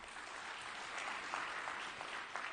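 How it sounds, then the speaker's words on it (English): An audience at a closing ceremony applauds with faint, dense clapping that stays steady throughout and carries a few louder individual claps. "Let's give him a round of applause."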